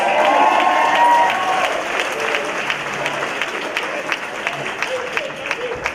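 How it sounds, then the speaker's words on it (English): Applause at an annual gala as choir members come up on stage, a dense burst of clapping that is loudest at first and then thins into scattered, sharper claps. "Give them a big round of applause"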